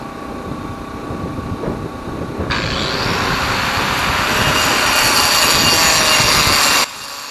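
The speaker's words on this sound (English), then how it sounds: "4-inch diamond blade with my right angle grinder, and I'm going to use it to follow the chalk line to make the first score." A right angle grinder with a 4-inch diamond blade scores rock along a chalk line for a driveway rock wall: a low rumble, then a loud, harsh, steady cutting roar that holds for about four seconds before cutting off abruptly.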